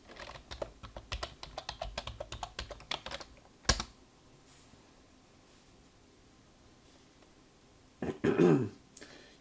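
Quick, close clicking of keys on a computer keyboard as a password is typed, a rapid run of taps that stops, followed by a short burst of rustling or handling noise near the end.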